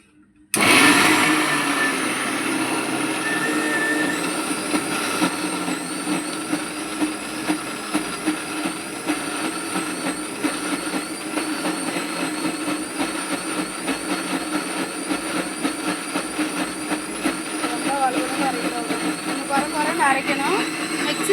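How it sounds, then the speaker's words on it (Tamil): A mixer grinder grinding lentils whirs loudly and continuously, a steady rough grinding hum that runs throughout with faint talk underneath. "மிக்ஸி சவுண்டு கேட்குதா கேட்கலையா உங்களுக்கு?"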